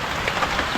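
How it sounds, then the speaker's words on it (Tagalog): Heavy rain pouring down in a rural provincial setting, a steady close hiss of drops hitting surfaces, continuous and moderately loud with no voices. "Lakas ng ulan."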